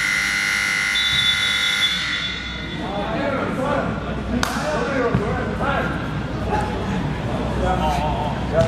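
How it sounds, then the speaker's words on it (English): A basketball game buzzer marks the end of the third quarter at a StatSports League XI game between Atlas Ballers and Ex UM. The sustained tone opens the clip, then fades into arena crowd noise with commentary over it. "the buzzer sounded as the third quarter comes to a close"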